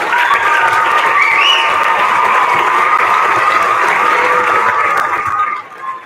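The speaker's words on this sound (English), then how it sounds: "give everyone, our students and staff, one more round of applause for their hard work" A large crowd at a school awards assembly applauds steadily and loudly, with scattered cheers mixed in, before the clapping begins to die down at the end.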